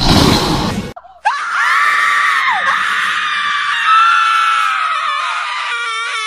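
After a short burst of noise, one loud, close, sustained scream rises and wavers for several seconds with brief dips, ending in a shaky trailing wail.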